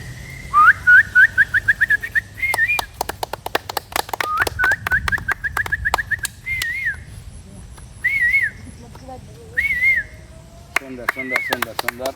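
A person whistles imitations of a bird call: short repeated rising chirps in quick bursts, then longer separate warbling phrases, loud and close, with a voice speaking briefly near the end.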